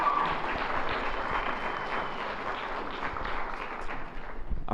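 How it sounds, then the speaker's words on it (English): Audience applause for the performer Ardillando at a spring 2025 entertainment premiere event. The clapping is sustained and moderately loud, with a dense crowd wash and faint voices or cheers mixed in. "can we get another round of applause for Ardillando?"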